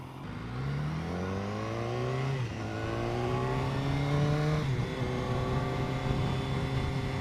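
A 2015 BMW S1000R motorcycle accelerates hard, its engine note climbing steadily before two crisp quick-shifter upshifts drop the pitch and the revs climb again, heard close and loud with no talk.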